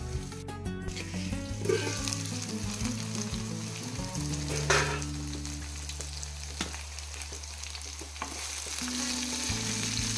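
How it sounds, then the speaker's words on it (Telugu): Brinjal and dry prawns curry simmers and sizzles in a lidded pan, a steady close bubbling hiss with a low hum underneath and occasional soft clicks, no talking. "మూత అయితే పెట్టేసిన ఐదు నిమిషాలు ఉడకాలి"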